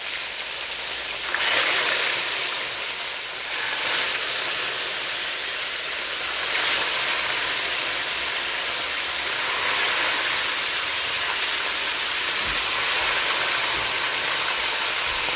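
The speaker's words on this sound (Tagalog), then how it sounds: "Ready to prito na natin itong ating pork belly para sa ating pork beef steak." Pork belly (liempo) fries in hot oil in a pan for pork bistek, giving a steady, close sizzling hiss that swells and settles, with no one talking.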